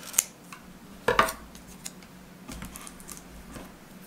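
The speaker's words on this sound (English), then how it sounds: "take the scissors and cut the extra off" A few sharp scissor snips cutting fabric for a rag tie garland, close and crisp, separated by short pauses amid quiet handling noises.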